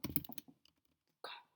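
A few quick bursts of computer keyboard typing, soft and close, with short clicking clusters separated by brief pauses.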